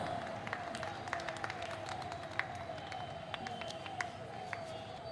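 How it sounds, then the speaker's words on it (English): Distant applause from an audience at a university ceremony, a soft continuous patter of clapping with faint crowd murmur and occasional louder individual claps standing out. "a huge round of applause"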